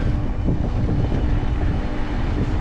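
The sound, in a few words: headwind while cycling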